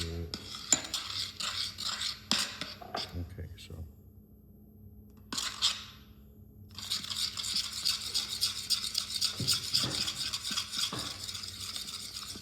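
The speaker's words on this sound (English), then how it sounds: "So, stir that up a little bit." A spoon scrapes and clinks against a bowl while bread pudding mixture is stirred, giving irregular scratchy strokes with brief pauses and a steady run of stirring near the end, close by, with a voice talking at times.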